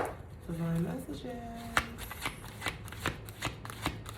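A short spoken phrase, then repeated crisp card shuffling, a steady run of riffles and slaps close to the listener.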